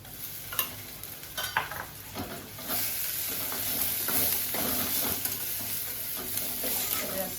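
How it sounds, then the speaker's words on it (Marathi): Ginger-garlic paste with red chili powder and garam masala spice mix sautés on a low flame for a wild greens and mutton dish, with a few scraping stirs at first and then a steady, moderate sizzle. "छान परतून घ्यायचं मंद आचेवरती"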